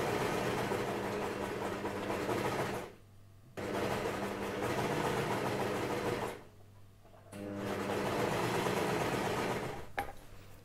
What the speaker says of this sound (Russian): Теперь можно прокладывать строчку на верлоке.